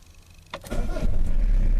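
A Renault Master van engine cranks with a brief starter whir, then catches and settles into a loud, steady idle close by.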